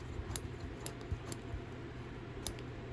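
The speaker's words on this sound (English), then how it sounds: "snipping any loose threads that I see" A few sharp, quiet snips from scissors trimming loose embroidery threads off a machine-embroidered mini sweater, spaced irregularly over a faint background hum.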